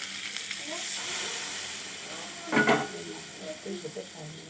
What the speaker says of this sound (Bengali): এবার এর উপরে জল দিয়ে দেবো, মাছের উপরে।